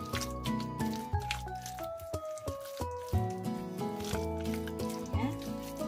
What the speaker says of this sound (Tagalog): haluin lang natin siya para ma-incorporate natin lahat yung mga ingredients